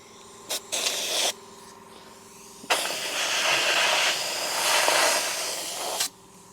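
Compressed air blasts dirt out of the rear frame rails of a 1959 Chevrolet Impala X-frame: two short hisses, then a long, loud, steady rushing spray lasting about three seconds, with no talking.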